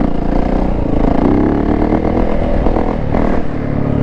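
A Yamaha YZ450F motorcycle engine roars loudly and continuously up close during a top-speed run, its revs climbing and holding steady with a slight dip toward the end.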